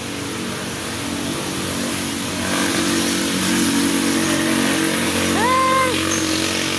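Traffic on a highway with motorcycles: a constant mid-pitched engine roar that grows louder as vehicles pass close and rev, with a brief tonal horn-like sound near the end and no speech.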